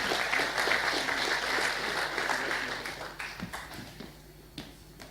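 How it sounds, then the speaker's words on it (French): An audience at a farmers' presentation applauds, a dense patter of clapping that is loud at first and slowly thins and fades over a few seconds. "On peut l'applaudir."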